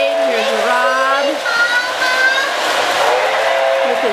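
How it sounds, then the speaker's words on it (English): Toy Polar Express train running through a Christmas village, with a continuous rolling rumble and clatter as it passes close by while voices talk over it. "there goes the train"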